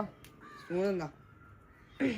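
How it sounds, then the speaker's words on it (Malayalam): A crow caws outdoors in a few harmonic calls, one clear burst near the middle and another at the end, moderately close, with faint talk and household background around it. "കാക്കടാ"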